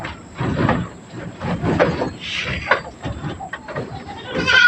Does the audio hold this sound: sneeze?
no